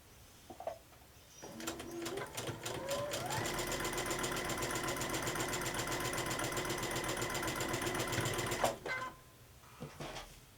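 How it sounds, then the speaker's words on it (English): A sewing machine stitches fabric blocks for a 16-patch star quilt, starting up with a few stuttering stitches, then running fast and steady for about six seconds before stopping abruptly, close and clear in a quiet room. "So let's go to the sewing machine and start to stitching."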